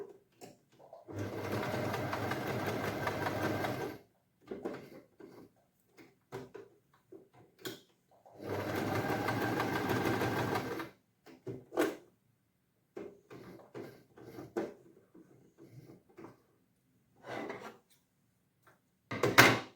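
Sewing machine stitching a silk blouse, running in two close, loud bursts of a few seconds each, separated by scattered clicks and handling knocks of the fabric and machine.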